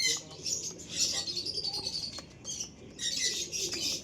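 Mature pigeons at a pigeon seller's loft give soft coos and rustles with some higher chirps, steady and close, with no talking.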